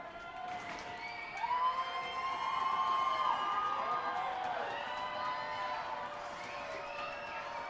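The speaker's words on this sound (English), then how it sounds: "the crowd is roaring here at FirstEnergy Stadium" A crowd roars and cheers at FirstEnergy Stadium during a minor-league baseball game between the Reading Fightin Phils and Bowie Baysox, a sustained broad swell of voices that rises and holds without letup.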